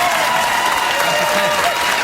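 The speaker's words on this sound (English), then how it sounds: "How hard the audience clapped." Studio audience applauding at a late-night talk show while a clapometer measures how hard they clap, a dense steady roar of clapping lasting throughout without a break.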